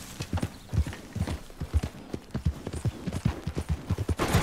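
Horse hooves clip-clop in a steady, repeated rhythm in Red Dead Redemption 2, fairly close and clear, with no talk over them.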